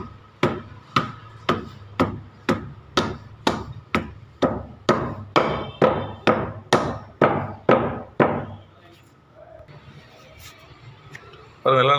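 Jaggery is pounded in a mortar with steady, evenly spaced thuds, around seventeen heavy close strikes in a regular rhythm, then the pounding stops and quieter handling sounds follow.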